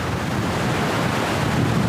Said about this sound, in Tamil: நான் லாஸ்ட்டாக வரும்போது இந்தளவுக்கு தண்ணி இல்லை கம்மியாக தான் இருந்தது ஒரு மீடியமாக தண்ணி இருந்தது இப்போ பயங்கரமாக போகுது